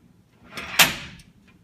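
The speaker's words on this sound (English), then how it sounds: "Here's the construction of the door, and what happens is this" A door's five-point locking mechanism is worked, giving a short mechanical clack with a faint scrape before it and a small click after, close and alone in a quiet room.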